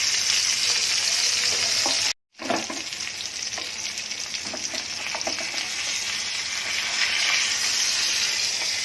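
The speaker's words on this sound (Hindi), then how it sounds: "ऐसे ही सब पापलेट तल के निकालूंगी" Pomfret fillets fry in hot oil, a loud, dense sizzle that runs continuously up close, broken once by a short silent gap before the crackling resumes.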